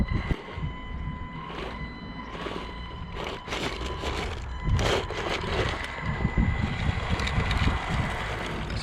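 A 1/16 scale WPL B36 RC military truck with dual 370 motors grinding up a climb, a steady whining motor hum with creaks and scrapes from rough terrain, close to the microphone.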